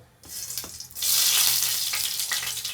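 Mustard seeds hit hot oil in a pan with a sudden loud, crackling sizzle that bursts in and keeps hissing steadily.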